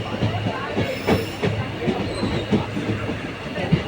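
Passenger train pulling into Oddanchatram junction on the Palani to Dindigul line, a steady rumbling run with rhythmic wheel clatter and a few louder thumps, heard from inside the carriage.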